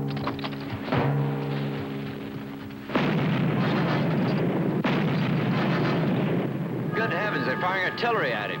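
Artillery fire in an old Disney animated cartoon, rendered as booming blasts and rumbling bursts that come in waves, loud and close, with a voice speaking briefly near the start.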